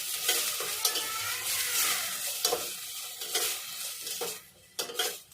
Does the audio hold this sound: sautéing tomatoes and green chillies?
yes